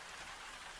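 Steady gentle rain falling as a soft, even hiss, faint and continuous with no voices.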